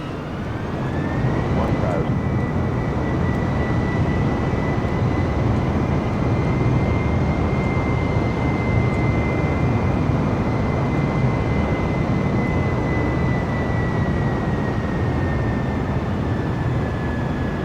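A simulated airliner in Microsoft Flight Simulator, on a Las Vegas to Phoenix flight and going around again, gives a continuous loud engine roar with a whining tone that rises early and then holds steady.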